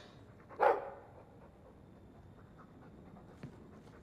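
A single short bark from a dog in Dragon Age, fairly close, followed by faint low panting and a small second sound near the end over quiet background.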